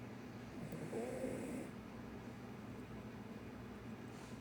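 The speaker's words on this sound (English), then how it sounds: "My dog's snoring." A single low, rasping snore rises briefly over a steady background hum, then the room settles back into quiet droning.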